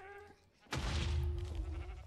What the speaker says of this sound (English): The sheep is still here.